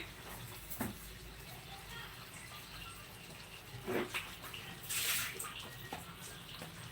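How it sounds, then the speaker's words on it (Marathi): Water pours into a brass ghagar, a traditional pot brought from a village, with a steady rushing splash and a few louder gushes and bursts as it fills. "आपली घागर बघा गाव गावाकडून आणलेली मस्त अशी बघा घागर भरली भरली भरली भरली"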